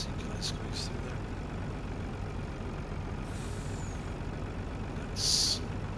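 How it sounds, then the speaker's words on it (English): Truck engine running steadily in a farming video game, with a short hissing air brake release near the end over a constant low rumble. "Alright, there's 2 trucks."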